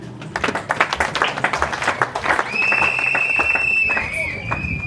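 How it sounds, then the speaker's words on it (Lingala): A crowd at a ceremony claps rhythmically and briskly, then the clapping fades into hall noise with a sustained high whistling tone and voices in the background. "je vous demande de les applaudir plus fort"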